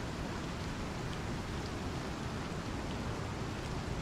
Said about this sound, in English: fighting in the rain is so different